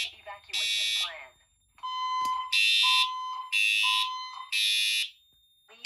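Firelite MS-5012 fire alarm panel with Siemens and Edwards devices sounding in a building test, bursts of harsh horn tones alternating with a steady electronic tone in a repeating on-off pattern, loud and close, with a recorded voice announcement between blasts.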